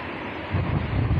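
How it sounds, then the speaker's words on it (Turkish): Steady wind buffeting the microphone, a broad rushing roar that swells louder halfway through, with no voices. "rüzgar yapıyor"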